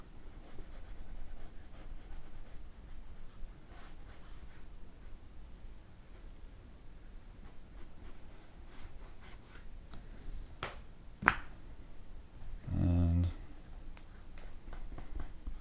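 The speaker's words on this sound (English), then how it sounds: "You can play with the side of your pencil to create texture for like hair." The side of a pencil shades across paper to build hair texture in a portrait drawing, a soft continuous scratchy rubbing close up, broken by one sharp tap and a brief louder scrape near the end.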